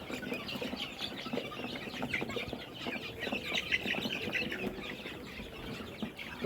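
Commercial layer hens on a poultry farm keep up a dense, continuous chorus of clucking and chattering from many birds at once, close and fairly loud.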